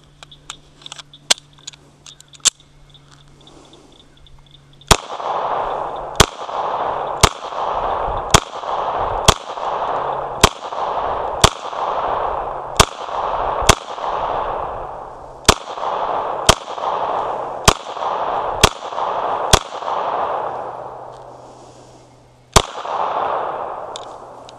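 A Sig P229 Scorpion 9mm pistol is fired in a steady string of about fifteen loud, sharp reports, evenly spaced, each followed by a brief echoing ring, with a few quieter clicks beforehand.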